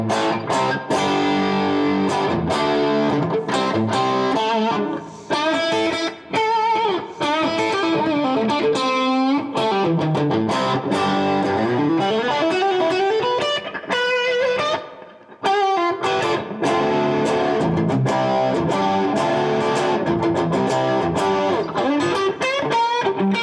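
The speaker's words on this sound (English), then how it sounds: "The reverb's really kicking in now because I'm driving the front end quite a bit." An electric guitar fitted with Fishman Fluence Modern pickups plays through an amplifier with its front end driven hard, a distorted tone and lingering reverb, strummed chords and bends ringing out continuously.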